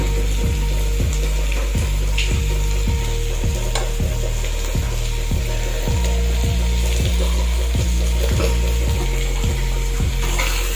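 Food sizzling in a pan as turmeric is stirred in, with a steady fry hiss and a regular series of scraping spoon strokes, roughly one per second, close and moderately loud with no talk.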